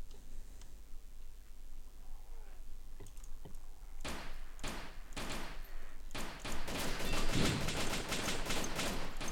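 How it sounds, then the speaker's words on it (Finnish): Assault rifle fire in a zombie video game, sharp bursts of rapid shots growing denser and louder toward the end over steady background game noise. "Nyt kuuluu rynky ampumistakin."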